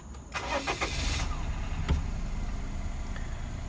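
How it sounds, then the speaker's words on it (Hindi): Suzuki MR Wagon small car engine starts up close by, with a brief whirring crank and a catch, then settles into a steady low idle hum. "सबसे पहले हम गाड़ी को स्टार्ट कर लेते हैं।"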